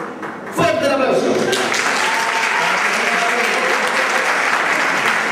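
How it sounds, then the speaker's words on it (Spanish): A loud burst of applause erupts from an audience at a Christmas-season rondalla gathering in Puntallana, welcoming a children's string ensemble; it starts abruptly after a short moment and holds as a dense, sustained roar of clapping. "¡Fuerte el aplauso!"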